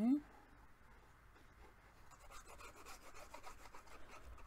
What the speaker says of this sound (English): Folding it over and burnishing.